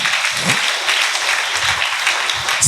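Steady applause from a congregation during a church worship service, continuous clapping that stays fairly loud and close for the whole short stretch, with no talking over it.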